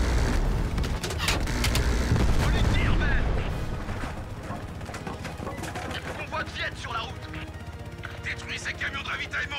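Gunfire and heavy explosive booms from the Call of Duty Black Ops Cold War campaign, dense and loud at first, then thinner scattered shots over continuing game noise.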